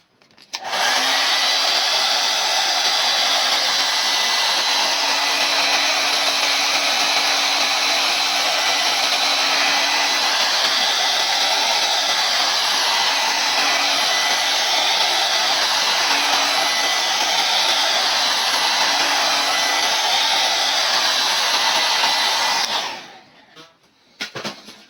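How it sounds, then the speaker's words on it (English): A hair dryer blows steadily over a craft piece for over twenty seconds, a loud continuous whooshing roar with a slight wavering whine, then it clicks off. "Run the hair dryer over it again."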